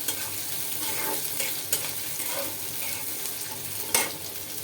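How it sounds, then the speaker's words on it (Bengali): Onions fry in a wok and are stirred, a steady close sizzle broken by a couple of sharp utensil clinks. "কড়ার মধ্যে পেঁয়াজ দিয়ে দিচ্ছি"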